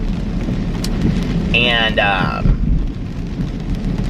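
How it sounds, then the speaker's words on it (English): Heavy rain pouring down outside, a loud dense hiss of falling water lasting throughout, with a brief tonal sound in the middle and a voice briefly speaking. "It's pouring down rain again."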